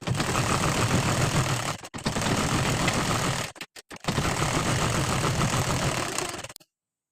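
A sewing machine runs steadily while stitching a straight seam on a blouse, a loud continuous mechanical whir broken by a couple of short pauses before stopping.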